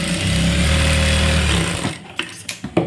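A sewing machine stitches a folded blouse hem in a steady, loud, close mechanical whirr for a couple of seconds, then stops, followed by a few short handling knocks and clicks.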